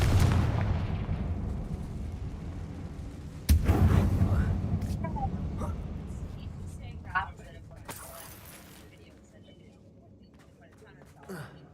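Spell explosions from Hogwarts Legacy gameplay: a sharp booming blast near the start and another burst mid-clip, each trailing into a rumbling decay over a steady low game hum, with later smaller crackling hits.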